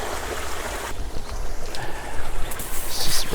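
Water being rinsed out at a koi pond during maintenance: a continuous splashing, gushing wash of flowing water, close and fairly loud, with bubbly surges toward the end.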